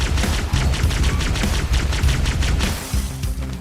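Rapid, continuous gunfire plays in a Halo 2 campaign, loud and sustained in a dense barrage with a few brief dips.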